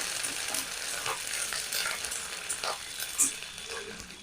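Curry leaves sizzle and crackle in hot oil, a soft, steady frying hiss with small scattered pops close by, no talk over it.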